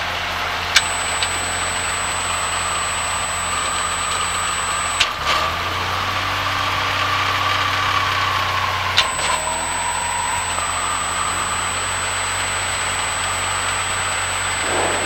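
A light aircraft engine drones steadily throughout engine checks, with a shift in pitch partway through and a couple of brief clicks, no voices.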